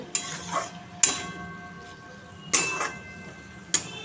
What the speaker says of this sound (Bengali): ঢ্যাঁড়স ক্যাপসিকাম ভাজা চলো নাড়িয়ে